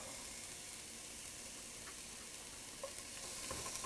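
Chopped onions and garlic sizzle in a hot pan while being stirred, a steady close frying hiss with a few soft scrapes and no talking.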